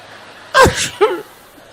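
A single loud, close sneeze with a sharp two-part burst, the quiet around it otherwise empty.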